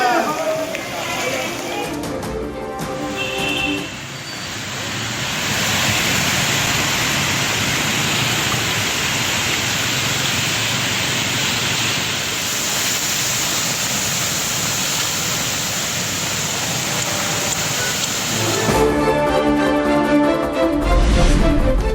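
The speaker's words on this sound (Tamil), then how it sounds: "தலைநகர் டெல்லியை தத்தளிக்கச் செய்யும் கனமழை" Heavy monsoon rain pours steadily in Delhi, a dense continuous hiss at a constant loud level for most of the stretch, with brief breaks near the start and end.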